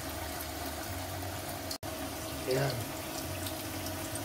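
Tofu fries in a pan with a steady, close sizzling hiss that runs through the whole stretch. A voice speaks briefly over it.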